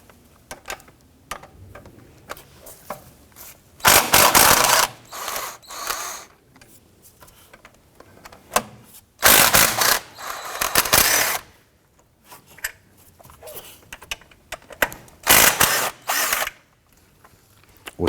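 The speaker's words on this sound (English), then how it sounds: "Using a 13mm socket and extension, we're going to remove the three upper bolts for the alternator." Ratchet turning a 13mm socket on an extension to remove upper alternator bolts on a 1993-1997 Ford Ranger 3.0L, heard as several bursts of rapid clicking separated by quieter pauses and small tool clinks.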